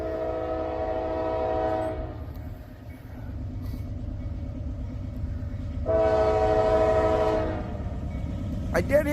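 An eastbound Norfolk Southern freight train rumbles past with a steady rolling roar, and its horn sounds two long blasts, the second louder and nearer.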